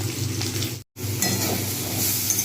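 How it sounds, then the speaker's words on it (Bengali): A steady low sizzle of fish frying in oil, with a soft background hum and a brief dropout partway through. "মাছটা ভাজছি"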